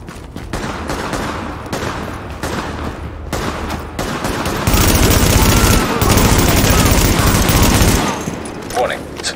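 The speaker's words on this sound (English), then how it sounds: "Warning, supplies taking fire." Gunfire in the shooter game The Division, a steady rattle of automatic weapons and scattered shots building into a louder, dense exchange, with speech heard over the fighting.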